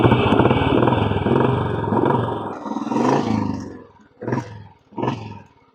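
An old-model Royal Enfield Bullet 350 motorcycle being ridden, its deep engine note droning loud and close before easing off, then surging in two short throttle bursts.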